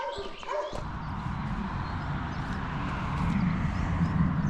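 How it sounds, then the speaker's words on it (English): Guard dogs barking in the video game DayZ at a hilltop house, a few distant yips heard under steady wind-like ambience while someone talks over it. "They're literally good guard dogs because it's the house all the way at the top."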